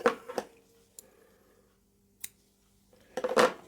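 Scissors snip through yellow yarn during a crochet project: a few short, crisp clicks and snips near the start, one isolated snip in the middle, and a cluster of louder cuts at the end, set against quiet room tone.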